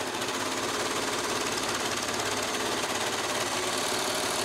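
An overlocker trims fabric edges while a cushion is sewn, its knife chopping up and down in a fast, steady mechanical chatter that runs unbroken and close.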